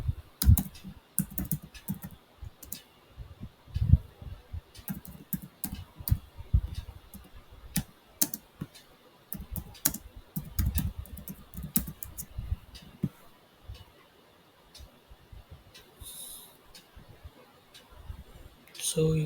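Typing on a computer keyboard while installing OpenJDK in a Windows virtual machine, with irregular bursts of close key clicks running throughout, quiet pauses between runs and a few louder clacks.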